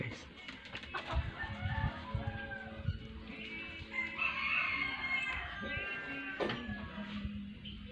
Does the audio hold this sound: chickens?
yes